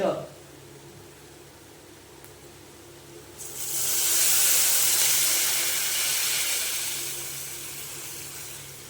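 Water is poured into a pan of fried spice paste for a curd katla curry, producing a loud, steady hissing sizzle that rises after a quiet stretch and fades slowly.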